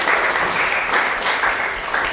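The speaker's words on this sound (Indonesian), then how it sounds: "tepuk tangan buat kalian" A class of students gives steady, dense applause, a continuous wash of many hands clapping together at moderate loudness, with no talking over it.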